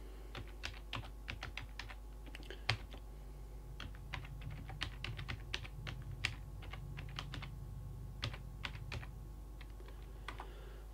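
Rapid, irregular keystrokes on a computer keyboard as an email address is typed in a quiet room, with a steady low hum and no voices.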